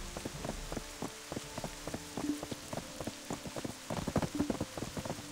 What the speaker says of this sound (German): das ist das erste Mal, dass es regnet